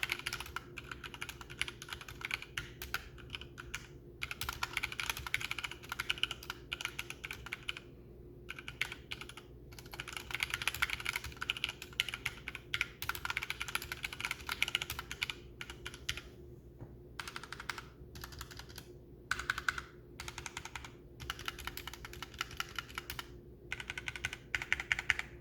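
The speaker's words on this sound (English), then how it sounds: "here's a quick sound test for you guys. Again, HyperX red switches" Continuous typing on a HyperX Alloy Origins 65 mechanical keyboard with HyperX red switches, steady close clacking keystrokes with brief pauses, no voices.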